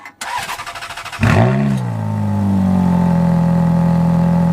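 A Ferrari F430 with a weak battery cranks sluggishly for about a second, then catches and flares loudly before settling into a steady, close, rumbling idle.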